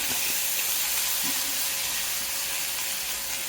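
A handful of curry leaves drops into a hot pan of tempering for a spicy chutney, giving a loud, steady hiss and sizzle that fills the whole stretch with no talk over it.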